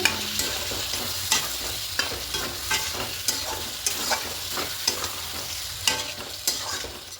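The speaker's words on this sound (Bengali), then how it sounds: "এবার এখানে মশলা পেস্টে জলটা দেবো দিয়ে আরও ভালো করে কষিয়ে নেব" Spice paste with water, for a vegetarian cauliflower and potato curry, stir-fried in a pan: a steady sizzle under regular spoon scrapes and clinks roughly every half second, close and moderately loud.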